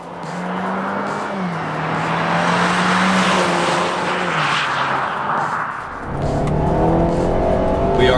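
A wrapped 500 hp BMW M2 drives hard on canyon roads, its engine note rising and falling under load while the tyres squeal briefly. The car is loud and continuous, with no talking.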